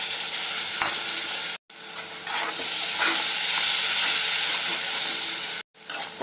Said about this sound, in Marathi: टमाट्याचा पूर्ण कच्चापणा निघाला पाहिजे, तोपर्यंत आपल्याला परतून घ्यायचं